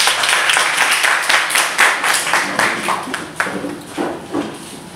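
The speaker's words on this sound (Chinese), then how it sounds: "大家鼓掌一下吧，好不好？" Applause from a workshop audience at a youth empowerment event for a small-town cultural creative group, a steady patter of many hands clapping at moderate loudness for the whole stretch, with no talk over it.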